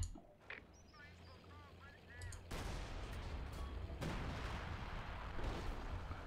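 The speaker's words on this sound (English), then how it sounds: "There you go, beautiful artillery from the Brits, supported by some nice infantry." A British artillery barrage in a strategy video game rumbles on as dense, continuous booming fire with crackling impacts, loud and sustained after a brief lull, with a voice talking over it.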